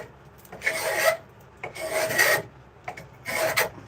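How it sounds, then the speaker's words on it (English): A hand rasp files a wooden spoon in three rough, scraping strokes of about half a second each, close up, separated by short pauses with a few light knocks. "I'm gonna hit them with a rasp"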